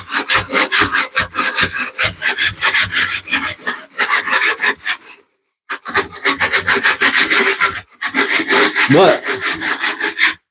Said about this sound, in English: it's going to scrape this damp mortar off the floor